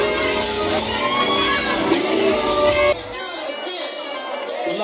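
Crowd at a steppin dance contest prelim, shouting, whooping and cheering loudly for about three seconds before the noise drops off to a quieter murmur.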